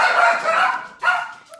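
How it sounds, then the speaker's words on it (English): Dogs barking outdoors at night, two rough bursts of barking with a short pause between them, moderately loud and somewhat distant, alone without talk. "there go the dogs"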